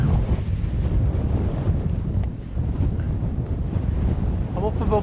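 Strong cold wind gusts across an exposed snowy mountain path above the Devil's Staircase in Glencoe in winter, roaring and buffeting the microphone continuously, with brief faint talk near the end.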